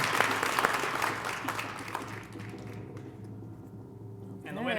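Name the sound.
audience applause at a leadership breakfast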